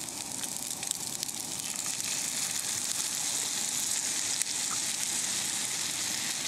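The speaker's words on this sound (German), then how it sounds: "Also jetzt kommt die Soße dazu." Cream sauce hits a hot frying pan holding schnitzel and spätzle, giving a steady, close hiss and sizzle that runs unbroken with light crackles.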